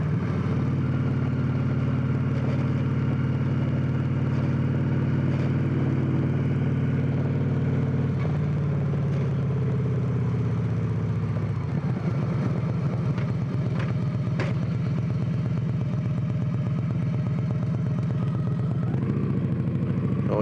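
Victory Cross Country Touring motorcycle, a big touring bike, accelerating hard, with a loud, steady engine drone that climbs in pitch through the gears and stays close and continuous with no talking.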